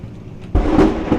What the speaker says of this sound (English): thunder! Man, it's pouring